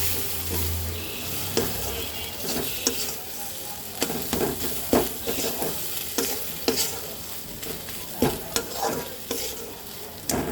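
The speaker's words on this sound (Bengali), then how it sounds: "সব কিছু একটু সুন্দর করে হালকা একটু ভেজে নেব।" Fish head with ground turmeric, coriander and salt stir-frying in a pan, a steady soft sizzle broken by repeated scraping and clacking strokes of a spoon, moderately close, with no talking.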